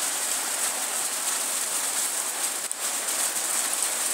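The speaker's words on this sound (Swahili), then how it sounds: "Na hapo bado mvua inaendelea kunyesha." Heavy hailstorm rain pours down steadily in Iringa, a dense, close hiss of falling water and ice with no clear gaps, broken only by one brief dip partway through.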